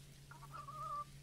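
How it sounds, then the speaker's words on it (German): A chicken in the farming game Dinkum gives a short, clear clucking call of about half a second, sitting over a steady low background hum and heard without any voices. "Und wir können das Huhn zumindest mal füttern."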